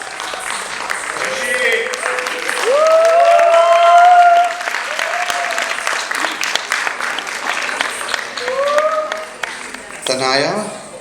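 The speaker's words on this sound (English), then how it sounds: "Big round of applause for her." An audience at a dance performance event applauds a young dancer in sustained clapping, swelling midway, while an announcer's amplified voice talks over it.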